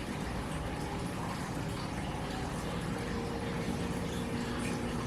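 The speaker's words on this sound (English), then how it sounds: "And add our broth" Broth is poured into a bowl of wonton noodle soup, giving a soft, continuous, even watery rush that stays faint and steady throughout.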